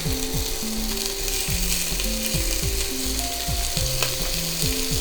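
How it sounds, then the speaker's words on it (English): Pork cubes drop into hot oil in a Dutch oven and sizzle loudly and steadily, with repeated sliding tonal sounds layered over the frying. "Now that it's nice and hot, we're going to throw the pork in."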